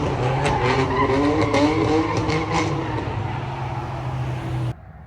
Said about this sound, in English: Whenever I hear tires screeching now